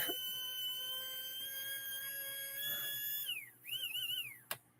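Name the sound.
small 130 motor spinning at high RPM, mini siren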